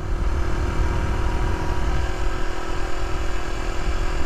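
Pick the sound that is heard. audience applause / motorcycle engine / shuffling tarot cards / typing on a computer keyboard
motorcycle engine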